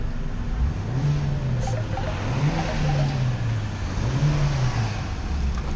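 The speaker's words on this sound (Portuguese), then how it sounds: "Eu vou até abaixar o vidro e vou dar uma aceleradinha para vocês verem o barulho." A Hyundai HB20 1.6 with its original exhaust revs repeatedly from inside the car, the engine note rising and falling in three smooth swells over a steady idle, loud and close.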